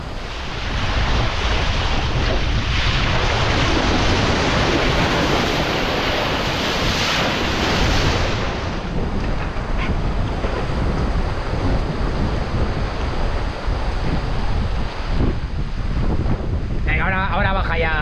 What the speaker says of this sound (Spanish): tenemos aquí 20 nudos de viento más o menos